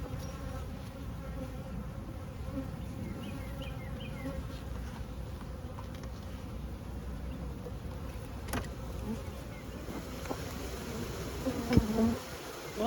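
Honey bees drone around an open hive in a steady, dense buzz that fills the whole stretch, with a few clicks and light handling noises near the end.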